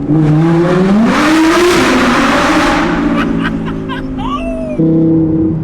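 An Audi R8 supercar's engine revs hard and accelerates. The loud, close roar climbs steadily in pitch over several seconds, then eases as the gears shift.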